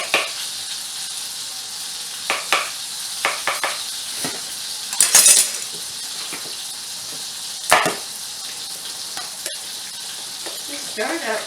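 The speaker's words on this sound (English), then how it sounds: "Just stir it up." Onions coated in two tablespoons of oil being stirred in a pan for a baked Italian sausage, carrot and potato dish, with a steady soft sizzle, scattered clinks of utensil on pan and a brief louder scrape partway through.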